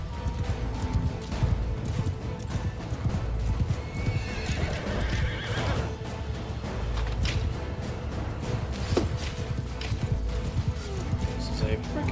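Rhythmic hooves clip-clop at a fast gallop while a horse neighs loudly, with game effects and a voice talking over it, in Mount and Blade II: Bannerlord.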